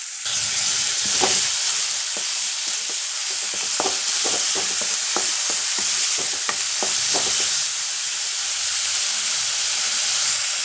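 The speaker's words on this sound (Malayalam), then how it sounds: "ഇനി ഈ സാധനങ്ങളെല്ലാം കൂടെ ഇതിലോട്ടൊന്ന് തട്ടാം തട്ടിയിട്ട് ഒരല്പം ഉപ്പ് ഇട്ടിട്ട് ഒന്ന് വഴറ്റിയെടുക്കാം" Vegetables sautéed in hot oil with mustard seeds and a pinch of salt for upma: a loud, constant sizzling hiss broken by a run of sharp spatula scrapes and taps against the pan, close up, with no voices.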